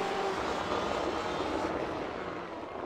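A race car engine in the iRacing simulator drones loudly and steadily at high revs, a dense continuous roar that eases slightly near the end, with no talking.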